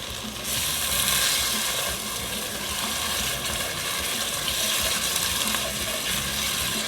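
Red wine poured into pork drippings in a hot pan hisses and sizzles loudly right away, then settles into a dense, even bubbling that lasts throughout.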